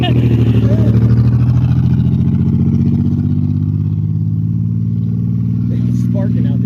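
A Chevy car engine running roughly and sputtering while sparking out the exhaust, a loud, close, throbbing low rumble that holds steady throughout with a faint voice near the end.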